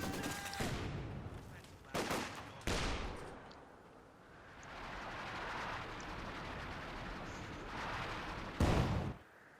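Bursts of Maxim machine gun fire and other combat noise from the real-time strategy game Company of Heroes 2, loud sharp volleys at intervals over a steady din of battle, no voices.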